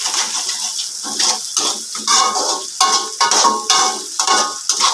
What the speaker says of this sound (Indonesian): Diaduk terus.